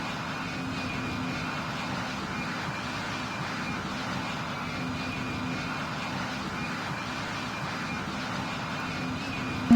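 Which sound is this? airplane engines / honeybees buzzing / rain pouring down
airplane engines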